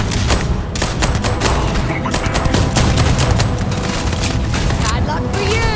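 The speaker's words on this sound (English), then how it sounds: "he's got a shotgun." Loud, dense video game gunfire with shotgun blasts in an online shooter, continuous booming shots and explosions packed together over the full stretch with no clear pauses.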